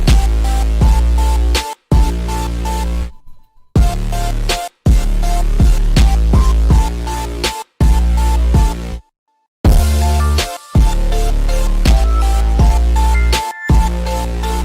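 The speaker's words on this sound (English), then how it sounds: "I put a crash and this kick. This is what it sounds like." A loud hyperpop beat in a Glaive style pounds with heavy kicks, a crash and bright synth layers, driving steadily in repeated bars broken by a few abrupt silent gaps, with no voices.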